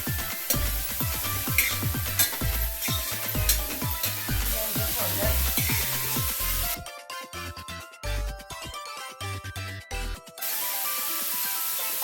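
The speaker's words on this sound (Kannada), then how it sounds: "ಎಣ್ಣೆ ಕಾದಾಗ ತುಂಬ ಸಿಡಿಯುತ್ತೆ" Ridge gourd and green chillies spluttering in hot oil, a loud dense sizzle with rapid crackling pops that ends abruptly and gives way to music.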